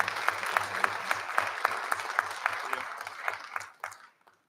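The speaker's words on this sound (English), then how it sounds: "Another round of applause." Applause from the audience at a board meeting, with individual claps clearly audible in a loose, fairly regular rhythm that thins out and stops just before the end.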